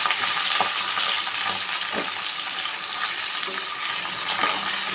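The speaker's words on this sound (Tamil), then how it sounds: "கொஞ்சம் நேரம் அப்படியே வதக்கி விடுவோம்" Ivy gourd sautés in hot oil with popped mustard seeds and curry leaves, a loud, steady sizzle with faint stirring scrapes throughout.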